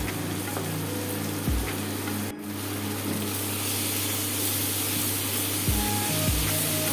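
Onions frying in oil with ginger garlic paste, for a Bengali kata kosa, give a steady close sizzle over a constant low hum, with one brief dip partway through.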